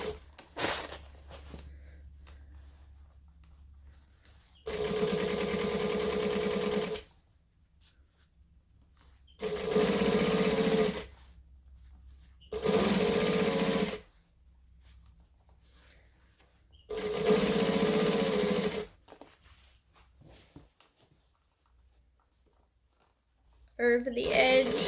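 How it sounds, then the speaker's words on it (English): Sewing machine stitching close to the edge of the binding on a lunging pad, running in four separate loud bursts of steady whirring, each a couple of seconds long, with quiet pauses between. "And I'm stitching pretty close to the edge of the binding."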